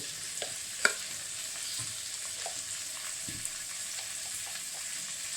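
Chili powder fries in oil, giving a soft, even hiss with a few faint taps and one sharp click, fairly quiet and close.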